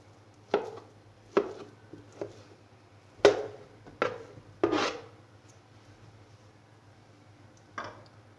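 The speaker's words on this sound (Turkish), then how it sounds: "bütün patateslerimi doğradım. Küp olacak şekilde." Potatoes are chopped into cubes with a knife, several sharp thuds against a board at irregular intervals, close by, with quiet pauses between cuts.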